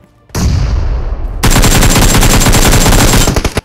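Gunfire in the mobile shooter BGMI: a loud burst of sustained firing, then a rapid automatic volley of close, evenly spaced shots, with no talking.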